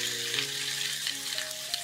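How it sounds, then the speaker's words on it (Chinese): A fish head fries in cooking oil in a pan, giving a continuous soft sizzle with faint crackles, fairly quiet and close, with no talking. "锅中倒入食用油，放入鱼头煎制，"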